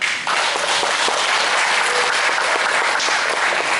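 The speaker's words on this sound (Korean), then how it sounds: "여러분 크게 한번 박수 쳐주십시오" An audience at a public forum claps in loud, dense, sustained applause that fills the whole stretch without pause.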